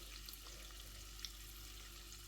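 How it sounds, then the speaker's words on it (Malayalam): Paneer pieces shallow-frying in a pan give a steady, faint sizzle with a few small pops, close by and uninterrupted, with no voices. "ഫ്രൈ ചെയ്തെടുക്കുന്നതാണ് പ്രധാനമായിട്ടും പനീർ ചെയ്യുന്നത്"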